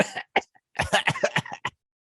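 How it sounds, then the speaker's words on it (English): A short run of harsh, bursty coughs, one quick cough then a cluster of rapid hacking bursts, close and fairly loud, ending abruptly. "I'm starting to cough here."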